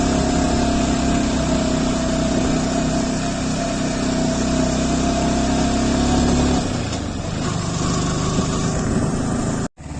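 A Yamaha R15 V4 motorcycle engine labouring in first gear on a hill road, a loud steady drone that shifts pitch partway through and cuts out briefly near the end, no voices.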